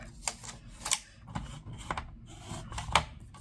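Scissors snip along a paper edge for a binder project, several quick crisp cuts close by at an uneven rhythm.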